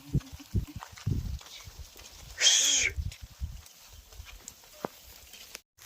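A horse's hooves clip-clop on a village path as it is led behind a flock of sheep, a few close, uneven thuds early on, then quieter scattered steps and a brief hissing burst.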